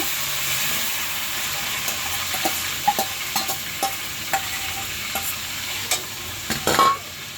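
Tomato tipped into onion and garlic already browned in a hot pan sets off a steady close sizzle, with scattered clinks and scrapes of stirring and a louder burst near the end.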